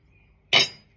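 A glass 9x13 casserole pan clinks once in a kitchen, a single sharp bright knock with a short ringing decay, close and clear against near silence.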